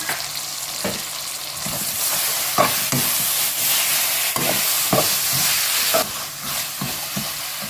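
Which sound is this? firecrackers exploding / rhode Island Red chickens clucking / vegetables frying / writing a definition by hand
vegetables frying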